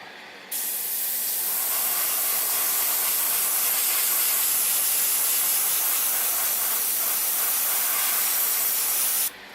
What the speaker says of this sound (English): This is Sky Gray XF19, thinned as usual with Tamiya lacquer thinner.